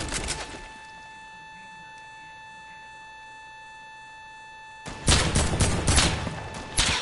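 Automatic AK rifle fire, a fast loud burst at the very start, then near-silence with a faint electronic tone, before several more rapid rattling bursts crash in at close range toward the end.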